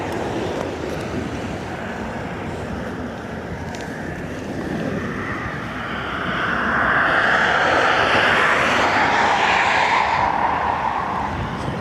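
A Royal Australian Air Force Boeing 737 Max on the runway at Dublin Airport produces a steady, distant jet engine roar with wind noise that swells louder toward the end.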